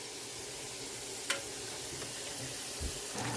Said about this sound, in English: I'm using a wok for deep frying.